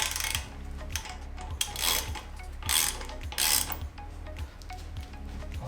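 A ratchet clicks in bursts as car wheel bolts are tightened during a brake pad change, with metallic clanks and a steady low mechanical hum underneath.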